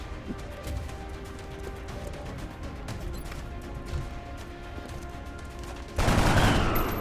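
Video-game gunfire from XCOM, rapid bursts of shots crackling over a busy combat soundtrack, ending in a louder, denser blast of noise.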